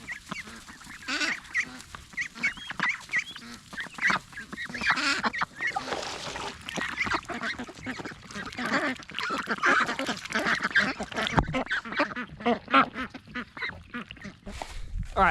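Male duck of a breed larger than a call duck calling repeatedly on a homestead, raspy honking notes in an irregular series, fairly close, with bird and yard noise around them.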